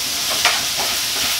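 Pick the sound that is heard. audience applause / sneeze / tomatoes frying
tomatoes frying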